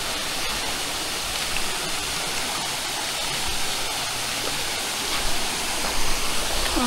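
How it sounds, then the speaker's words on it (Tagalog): Steady rushing waterfall and flowing stream at a hidden swimming spot in Pangasinan, a dense, continuous broadband roar heard close and loud with no voices. "Finally nakakita ulit tayo ng waterfall."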